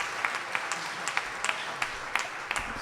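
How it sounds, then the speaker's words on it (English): A small audience applauds Scarlett at a stop on a senator's whistle-stop tour in Palmer, with sparse, distinct claps rising over a steady wash of broadband noise across under three seconds. "So let's give Scarlett a round of applause."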